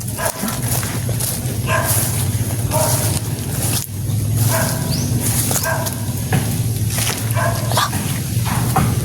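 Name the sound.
dogs barking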